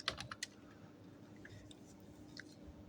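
Keyboard typing on a computer, a quick cluster of clicks at the start followed by a few scattered faint taps, close and quiet.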